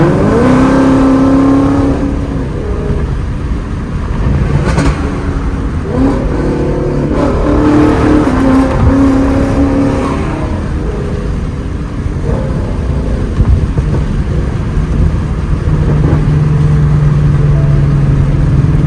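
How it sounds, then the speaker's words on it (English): A Ford Mustang GT 5.0 V8 engine rumbles steadily with a low exhaust burble and occasional revs, heard from inside the car while driving, loud and continuous throughout. "Dang, that burble tune sounds so good."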